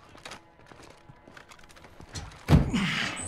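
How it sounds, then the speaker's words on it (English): A crate being opened in Call of Duty Modern Warfare 2: soft shuffling clatter builds to a heavy wooden thunk followed by a louder creaking, scraping burst as the lid comes free. "Open the crate."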